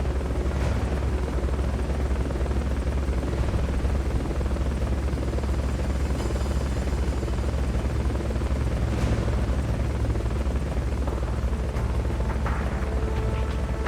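An enemy helicopter in Metal Gear Solid: Peace Walker thrums with a steady, loud rotor roar that holds without a break across the whole stretch, with faint higher game effects layered over it now and then.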